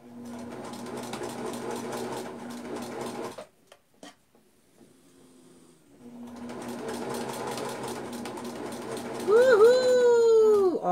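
A domestic sewing machine stitches a shirt, including a reverse backstitch, with a loud rapid mechanical whirr that stops, pauses briefly and starts again, while voices talk over it near the end.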